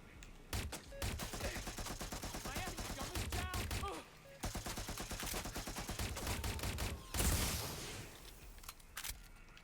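Turret gunfire in a Watch Dogs Legion firefight, rapid bursts of shots crackling in long volleys with a short pause, then a loud blast and more scattered shots.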